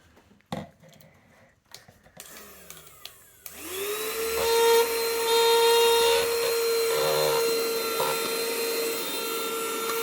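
A wireless vacuum cleaner switches on after some handling clicks and settles into a loud, steady motor whine with strong suction rushing air, running close up without speech.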